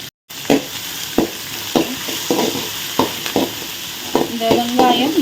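Onion, green chilli and curry leaves sautéing in oil for chana masala, a steady sizzle punctuated by regular rhythmic spatula scrapes against the pan about once a second, close and loud, no speech.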